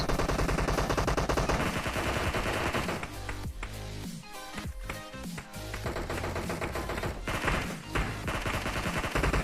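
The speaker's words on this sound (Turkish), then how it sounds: "Oha birisi sıkıyor. Oğlum siz kimin takımına sıkıyorsunuz?" Gunfire in a battle royale video game, dense bursts of rapid automatic shots, loud and continuous with a brief quieter lull midway, no speech.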